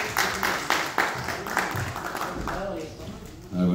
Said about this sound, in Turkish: yine aynı alkışlarla huzurlarınıza Merve Çiçek Hanımefendi'yi davet edelim